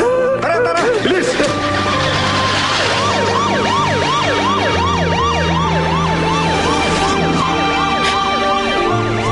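A loud ambulance siren wails in rapid repeating yelps, close and continuous, over a low engine rumble.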